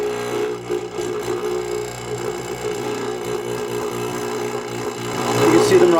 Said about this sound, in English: Okay, we're going to vibrate the bubbles out of here.